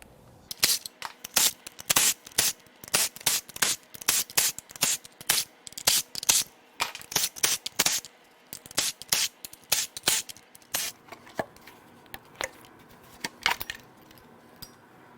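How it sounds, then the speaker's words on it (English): Metal parts clatter and clink as the passenger-side valve cover comes off a Hyundai Genesis 3.8L Lambda GDI V6 engine during a teardown: a long run of sharp, close, irregular taps and rattles of bolts and tools, with no talk. "Now let's peel off the right or passenger side valve cover."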